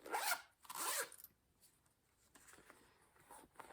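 Small zipper storage bag for embroidery floss being zipped: two quick, loud rasping zip strokes close up, then quieter rustling and handling of the bag.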